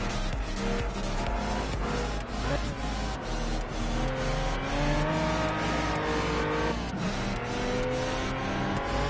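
Race car engines in Project Cars at the Monza circuit, a steady loud roar with revving and shifting pitch through an overtake, continuous throughout with faint tire noise.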